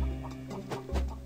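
A short burst of cartoonish chicken clucks from the Cactus McCoy video game, a few quick squawks over a steady background of game music.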